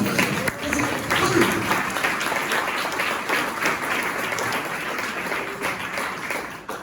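A church congregation applauds steadily for several seconds, a dense, sustained wash of clapping from many hands filling the room at fairly even loudness.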